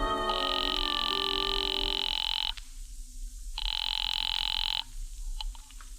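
An old-style telephone rings in a radio drama: two long steady electronic rings with a gap between, clear and close over a faint background hum.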